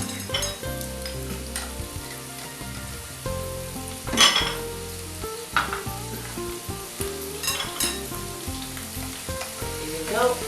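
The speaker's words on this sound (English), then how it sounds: "fry your onion, ginger and garlic until it is nice and brown" Onions, ginger and garlic frying in hot oil, a strong steady sizzle close by, broken now and then by stirring scrapes and light clinks of utensil against pan.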